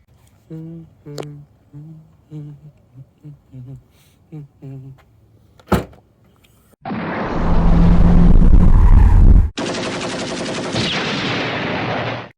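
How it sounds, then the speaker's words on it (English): An angle grinder works on a Subaru Impreza during DIY chassis bracing, starting after a stretch of quiet talk and clatter: two long, loud, harsh bursts of several seconds each, split by a brief pause. "You know something's going on when the angle grinder comes out."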